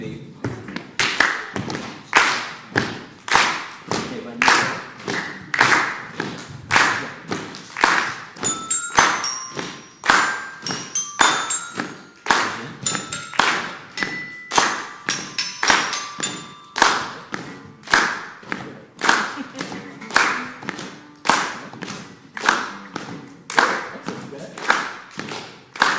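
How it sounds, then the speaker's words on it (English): An audience at a dialogue event claps along in a slow, steady unison beat, each clap a dull, thumping hit, while music with a sung melody rises faintly underneath midway through. "I'm going to ask everyone to clap one more time"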